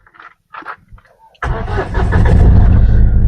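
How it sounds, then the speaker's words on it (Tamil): A Mahindra Bolero diesel engine cranks and fires up, settling into a loud, steady diesel rumble after a few brief clicks and clunks from inside the cabin. "அப்புறம் இப்போ வண்டி ஸ்டார்ட் பண்ணி காமிக்கிறேன்."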